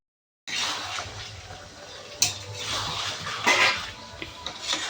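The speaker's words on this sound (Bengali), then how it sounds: "আলুগুলো দিয়ে ভালো করে মাংসের সাথে মেশাতে হবে" Fried potatoes being stirred into chicken in a pot for a spicy curry, a scraping, clattering spoon against metal with occasional sharper knocks, moderately close and continuous.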